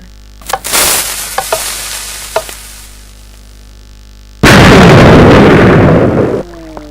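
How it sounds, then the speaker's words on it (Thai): Cannon shots in the Minecraft video game: sharp explosive bursts early on, then a loud, dense roaring blast from about 4.5 to 6.4 seconds, with no talking. "ตอนนี้เราก็พร้อมจะยิงอีกลูกนะครับ"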